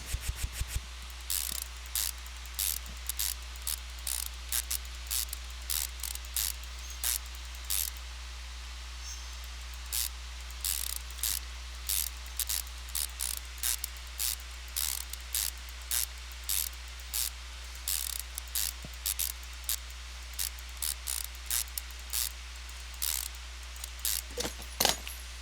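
Repeated ratcheting bursts while parts such as the intake manifold and fuel rail are bolted onto an engine in Car Mechanic Simulator 2015, short mechanical clicks recurring steadily over a constant low hum.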